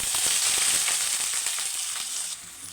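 Cumin seeds and onion pieces sizzle and crackle steadily in hot oil, a close, continuous fry with small pops throughout and no talk.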